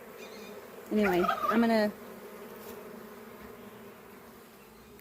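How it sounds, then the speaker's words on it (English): A swarm of bees hums steadily around a hive box while being moved into a permanent hive. The buzzing drone runs throughout, and a person speaks briefly over it near the start. "they have tons of room to grow their little hive."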